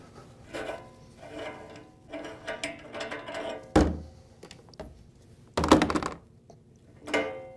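The collar being removed from an electric meat grinder, heard as a scatter of close metallic clicks and rattles, then a loud thunk around the middle, a sharp clank a little later and a final knock.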